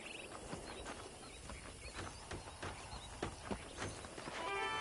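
Horse hooves clip-clopping in Red Dead Redemption on PS5 while touring a ranch, a soft irregular trot under ambient game sound with a brief whinny near the end.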